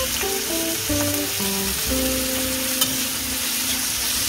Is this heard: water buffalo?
no